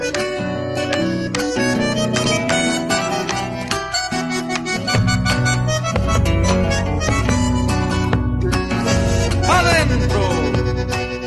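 Latin song playing on a radio broadcast, with steady instruments and a singing voice filling the whole stretch at an even loudness.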